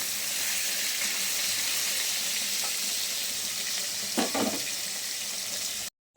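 Koi fish fry in hot oil with a loud, steady sizzling hiss and a brief spatter near the end, no talking.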